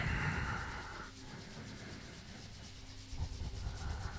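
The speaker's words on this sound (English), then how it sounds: "Rub your hands together. Generate some heat." Hands rub together briskly for warmth during a breathwork and meditation session, a continuous close, dry swishing friction that eases slightly midway and picks up again near the end.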